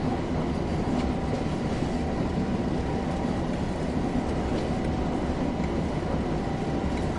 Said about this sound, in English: doing some shunting and freight fun on Northern Transpennine today